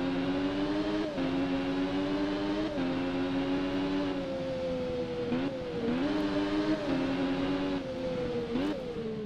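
A Triumph Daytona 675 three-cylinder motorcycle engine in a video game holds a continuous high-pitched drone, with brief dips and rises in pitch at gear shifts, loud and steady throughout without talk.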